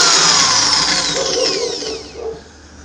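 A DeWalt 800-watt DW508SK-B2C drill with a 10 mm bit spins down from a loud high whine, the pitch sliding lower and fading over a few seconds, close up with no talking.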